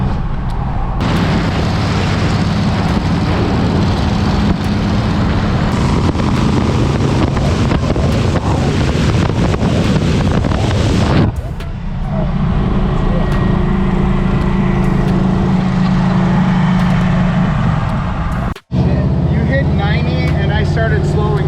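A loud 1974 Jeep CJ5 drives at speed with a heavy, roaring engine drone buried in strong wind buffeting, the roar shifting briefly before carrying on.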